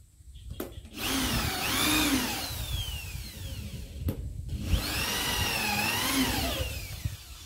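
A power drill bores into wood while building a hut, whining up in pitch in two long, loud, close runs with a short pause between them.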